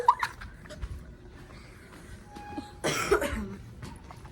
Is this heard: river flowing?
no